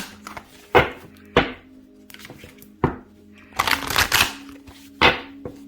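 A deck of oracle cards being shuffled by hand in bursts of riffling and tapping, with sharp slaps and a longer shuffle near the middle, close and fairly loud, no talking.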